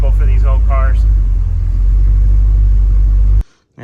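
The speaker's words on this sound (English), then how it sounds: "you can hear the idle kind of surging a little bit" A Porsche 928, an older car, idles close by with a steady low rumble that wavers slightly in level; a voice speaks briefly at the start, and the sound cuts off abruptly near the end.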